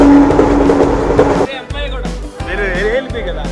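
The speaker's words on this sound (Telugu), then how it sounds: "Train number 12717 Ratnachal super fast express." Ratnachal Superfast Express train 12717 running, a loud broadband rumble with clattering for the first second and a half, then a quieter stretch where voices talk over a low hum.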